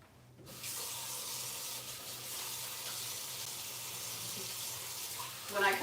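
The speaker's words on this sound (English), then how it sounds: "I gotta wash my hands." Water runs steadily from a sink tap while hands are washed, a continuous close hiss that starts after a brief quiet moment and swells slightly at the end.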